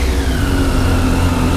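A motorcycle engine running and revving in Paris, a steady loud drone with a low rumble close by.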